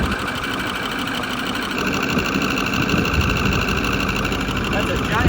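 A Ford Powerstroke diesel engine with an exhaust leak from a missing stud runs steadily, its loud, rapid ticking chatter and mechanical clatter constant and close throughout.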